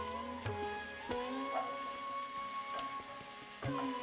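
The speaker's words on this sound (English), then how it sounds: "And once that is nice and hot, just cook the onions for 5 minutes until soften." Onions frying in hot rapeseed oil give a steady, close sizzle with a few sharp clicks and bumps, as if stirred or moved in the pan; no one speaks.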